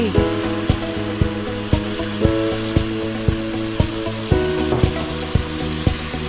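Steady, loud sizzle of water poured into a hot frying pan while cooking long eggplant stir-fry, with a continuous hiss broken by repeated sharp utensil taps against the pan.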